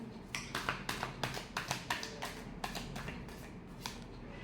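Tarot cards being shuffled in a quiet room, a rapid series of soft, crisp riffling snaps and taps repeating about a dozen times at close range with no voices.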